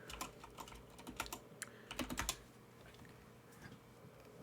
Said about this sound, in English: Let me type in Bobby.